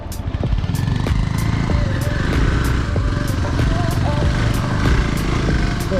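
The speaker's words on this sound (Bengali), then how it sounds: "অফ রোডিং বাইক, অফ রোডিংয়ের মজা উঠছে।" An off-road motorcycle engine drones loudly and continuously while riding on a rough hill track, with steady revving and mechanical rattle close by.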